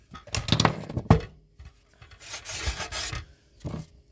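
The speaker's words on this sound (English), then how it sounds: "And this is really fine sandpaper. But this is real soft wood" Fine sandpaper rubbed over soft wood in short rasping strokes, a quick cluster of close scrapes followed by a longer steady sanding pass and a final brief stroke.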